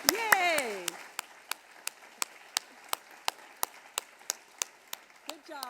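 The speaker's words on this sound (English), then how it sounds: "So I think we should all clap for ourselves because we've done a great job" A room of people at an announcements event claps for themselves in a steady, even rhythm of distinct claps. A voice cheers briefly at the start.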